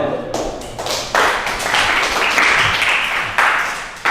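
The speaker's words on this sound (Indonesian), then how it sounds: "Tepuk tangan." Students in a classroom break into hand clapping, a dense run of close, loud claps with a few heavier thumps mixed in, carrying on steadily throughout.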